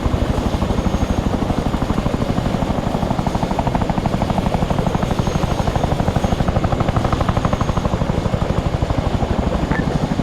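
Helicopter flying in the video game ARMA 3, a steady loud rotor thump with a continuous engine drone, close and unbroken, no talk.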